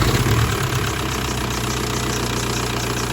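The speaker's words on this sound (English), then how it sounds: "now we're going to start the vehicle and let it idle for a little while." A VW TDI diesel engine idles after a fuel filter replacement, with a steady low knocking rumble close to the engine bay, slightly louder at first and then settling into an even idle.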